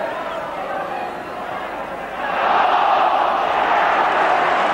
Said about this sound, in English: That was a pass that had the crowd beginning to roar with anticipation